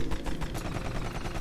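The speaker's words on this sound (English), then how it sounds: "Well, here's a gun here! Check it out! It's gun! Pistol." Pistol fire in the video game Rusted Moss, a dense run of rapid, close gunshots popping steadily across the whole stretch with no talk over them.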